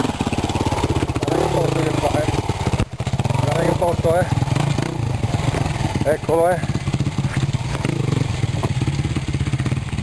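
An enduro motorcycle engine revs and labours on rough off-road terrain, a loud, pulsing buzz with repeated throttle swells, while someone talks excitedly over it.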